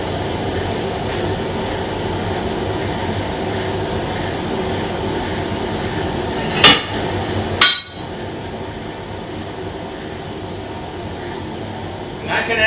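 A steel hammer strikes twice while someone repairs a loose hammer eye. The two sharp, close metallic blows land about a second apart over a steady low rumble of background noise.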